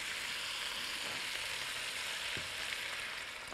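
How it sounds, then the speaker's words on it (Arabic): Broth poured into a seafood soup with shrimp, then stirred, giving a steady hissing, bubbling wash of liquid that stays even and close throughout, with no voices. "بالراحه نحط المرقه، نقلبها كده تقليبه"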